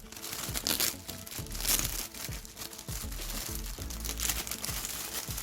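Crinkly plastic packaging of a toy dart gun being torn and crumpled in repeated bursts, close and fairly loud, with brief pauses between the rustles.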